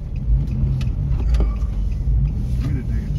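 A car engine revving as the vehicle swings around a turn on a street in Mobile, Alabama, a loud steady low rumble throughout with faint voices nearby.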